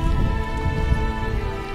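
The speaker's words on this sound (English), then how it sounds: "it's starting to rain" Rain falling steadily at hilltop castle ruins with little cover, a dense, loud, continuous patter and hiss heard close up, with no voices.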